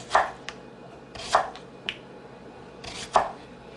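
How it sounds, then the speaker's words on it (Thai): A knife chops against a board in an uneven rhythm, three heavier strokes with lighter taps between, close by and with no talking. "อันนี้หั่นให้น้องโอเว่น"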